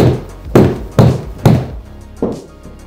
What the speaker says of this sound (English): I'm going to hit 10 wedges and see how the noodle stacks up with the brand new wedge against this